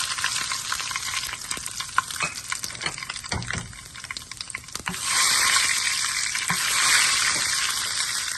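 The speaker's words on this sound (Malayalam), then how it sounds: "കടുക് ഇട്ട് പൊട്ടിക്കാം. അതിൻ്റെ കൂടെ ഇതിനുള്ള ഉലുവ, ജീരകം, 2 വറ്റൽ മുളക്," Mustard seeds, fenugreek, cumin and dried red chillies sputter in hot oil for a Kerala ripe mango pulissery, with scattered pops and stirring that swell into a louder, steady sizzle partway through, close and with no talking.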